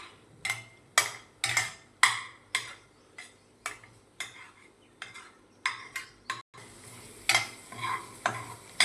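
Garlic frying in butter for garlic bread, with repeated spatula stirs scraping the pan every half second or so over a low sizzle, close and fairly loud, no voices.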